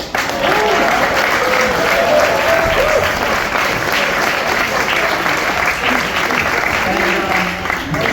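A room of guests at a water polo team banquet breaks into sustained loud applause, dense clapping from many hands that continues steadily throughout.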